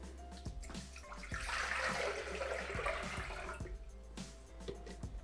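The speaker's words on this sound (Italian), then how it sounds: "Adesso mettiamo all'interno del boccale l'acqua." Water being poured into the mixing bowl of a Bimby TM6 Thermomix kitchen machine, a steady continuous splashing stream swelling then tapering over several seconds, close by with faint background clicks.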